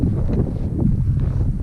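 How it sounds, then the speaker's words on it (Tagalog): Cold mountain wind on Mt. Apo buffets the microphone in a loud, low, rumbling roar, steady and close for a short burst with no voices. "Malamig na ang simoy ng hangin."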